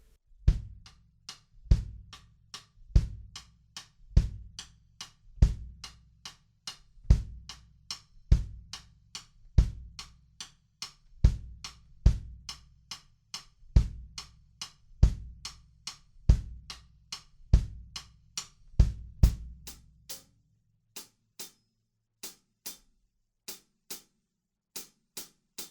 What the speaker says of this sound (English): we've got like a synth sound and kick drums playing kind of groups of 3 over 4